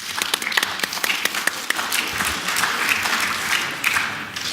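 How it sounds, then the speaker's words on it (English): Audience applause during a low-code software conference session, dense steady clapping from a room full of people with scattered sharper nearby claps, alone without speech. "Round of applause for you guys."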